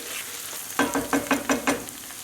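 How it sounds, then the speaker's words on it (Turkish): Tomato paste and pepper paste are sautéed in a pan, with a soft sizzle beneath about six rhythmic stirring strokes. Each stroke is a short scraping swish, evenly spaced and close by. "Salçalar ile birlikte 1-2 dakika kavuruyorum."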